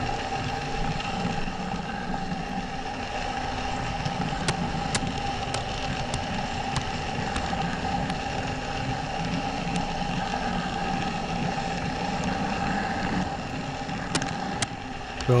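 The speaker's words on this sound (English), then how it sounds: "So I'll shut up for a little while and let you listen to the wheels rattling all over the" Train wheels rattling along the track during a ride, a steady loud rumble and drone with sharp periodic clicks over rail joints, continuous throughout.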